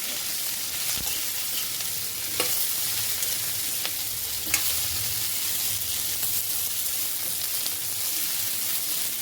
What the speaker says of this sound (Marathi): त्याच्यामध्ये आपण भेंडी टाकू, हलवून घ्यायची